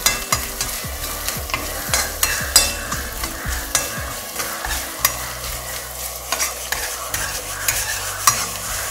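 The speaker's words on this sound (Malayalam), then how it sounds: "അതിനുശേഷം ഇഞ്ചി വെളുത്തുള്ളി ഇട്ട് നന്നായിട്ട് ഇളക്കണം." Coconut pieces, ginger and garlic frying in a pan while being stirred for a Kottayam-style buffalo roast, with a constant sizzle broken by repeated scraping clatters of the spoon at a steady, close rhythm.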